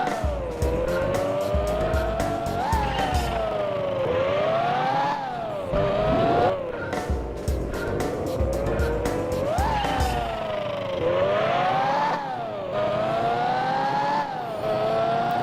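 A race car engine in Gran Turismo 4 Prologue revs hard through rising, repeated gear shifts with tire squeals, loud and continuous with no talk.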